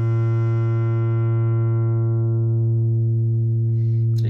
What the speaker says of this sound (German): Mein Rechtecksignal mit offener Frequenz und ich gehe langsam mal runter.